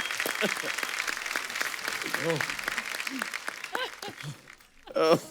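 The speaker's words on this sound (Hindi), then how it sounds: "एक बार जोरदार तालियां हो जाए अंतिम की पूरी स्टार कास्ट के लिए और हमारे डायरेक्टर साहब के लिए" Studio audience applauding the star cast and director of the film Antim on a comedy talk show, a sparse clapping bed beneath prominent speech from a host, ending with a louder burst.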